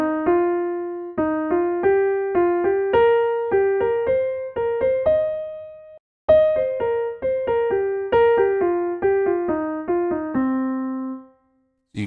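Clear piano notes climb a pentatonic scale in quick three-note groups, each group stepping higher, with a short pause midway before another rising run that ends on a held note.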